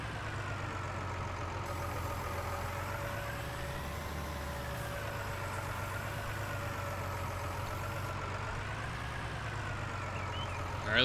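A farm tractor's engine roars steadily with a heavy low rumble as it rears onto its back wheels, the pitch swelling and sagging through the run before rising sharply at the end.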